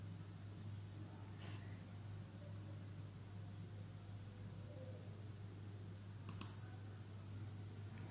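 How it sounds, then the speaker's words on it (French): Two separate, faint key presses on a computer keyboard, one early and one late, click over a low, steady electrical hum in a quiet room. "Je tape entrée."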